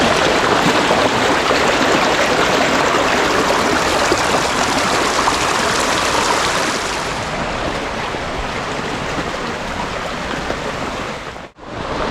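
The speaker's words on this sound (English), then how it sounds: "this little creek that's running right through the city" A small creek runs through the city, giving a steady, loud rush of flowing water that eases slightly partway through and dips for a moment near the end, with no voices.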